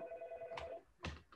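A telephone gives a faint, brief electronic ring: a steady tone that fades out, followed by a couple of short clicks or bursts, all quiet and heard alone.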